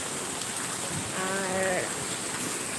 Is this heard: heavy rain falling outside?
yes